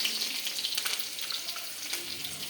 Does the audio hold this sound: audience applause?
no